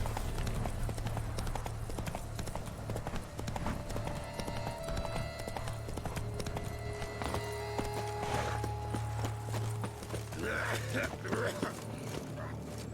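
Horse hooves clip-clop in a steady galloping rhythm throughout a scene in The Witcher 3, set against a game music bed with a faint ambient tone underneath.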